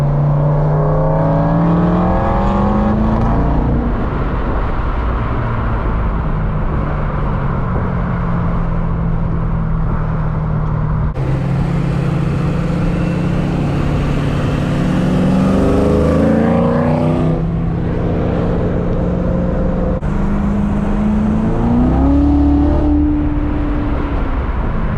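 Several cars accelerate hard and take off, one lifting its front end. Loud, continuous engine roar with rising and falling revs that sweep upward through repeated gear changes, close by and steady across the whole stretch.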